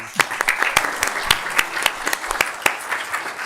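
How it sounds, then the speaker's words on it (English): Applause from the audience at a city council meeting, a room of scattered, crisp handclaps with some louder individual claps, steady throughout and moderately close. "Let's give her a round of applause."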